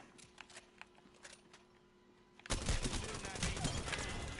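Gunfire erupts in the Fuse video game, quiet scattered shots for a few seconds and then a sudden loud, dense burst of rapid cluster fire that keeps going.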